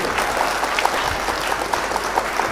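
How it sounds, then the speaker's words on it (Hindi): Steady audience applause fills a poetry mushaira, dense continuous clapping at a moderate level with no voices over it. "एक बार तालियां बजाइए इनके लिए।"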